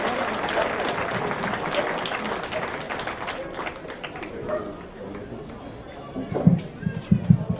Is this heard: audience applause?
yes